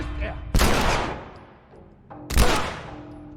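Two loud bursts of gunfire in the video game The Last of Us, the first near 0.5 s and the second near 2.3 s, each sharp and booming with a long decaying tail, with a quiet gap between them.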